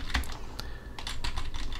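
Computer keyboard keys are pressed for shortcut commands during Adobe Illustrator work, a quick irregular run of close, crisp clicks and taps with no talk over them.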